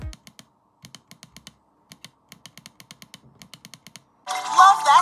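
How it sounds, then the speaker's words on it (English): LB and RB top buttons on a ROG Ally X handheld give crisp, close clicks, single and in quick bursts at an uneven rhythm, before a voice starts speaking. "some other LB and RB top buttons now have an incredibly satisfying click"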